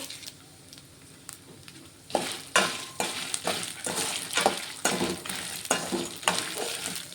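Mustard seeds and curry leaves frying in a pan, starting quiet and then bursting into loud crackling sizzle with rhythmic popping and spluttering bursts, close and continuous.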